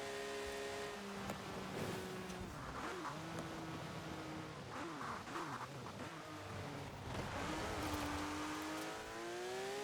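Ferrari sports car in a racing video game, engine revving and shifting through gears as it approaches, with tire squeals and other cars around, fairly quiet overall and with no talk.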